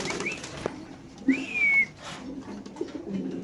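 Pigeons at a pigeon farm: a short coo and a rising whistled call stand out over soft cage rustling and a brief flutter, close and fairly quiet.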